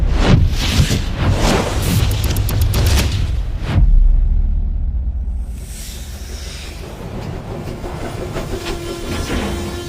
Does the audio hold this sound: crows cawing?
no